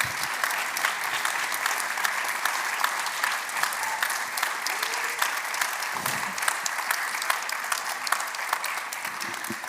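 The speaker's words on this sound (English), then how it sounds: "a well-deserved applause" Sustained audience applause after a talk on just climate action at a Hague speaking event, a dense even wash of many hands clapping throughout, with faint low murmurs underneath.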